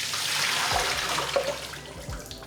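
Water draining off soaked rice noodles, a gushing pour at first that breaks into splashes and trickles, close by, with a few soft knocks near the end.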